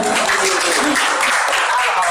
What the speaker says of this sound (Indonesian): Tepuk tangan lagi bukan semua.